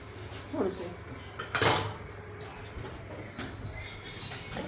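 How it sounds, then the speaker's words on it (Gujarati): Dishes and utensils being washed in a kitchen during wedding cooking clatter and clink in a couple of sharp bursts against a low background hum, with faint talk around. "આ લોકો વાસણ ઉટકે"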